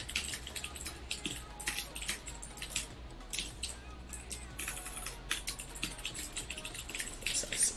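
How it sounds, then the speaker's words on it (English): Fast, furious typing on a computer keyboard, with dense rapid key clicks rattling on steadily and close by across the whole stretch against a faint background hum. "Such a furious typer"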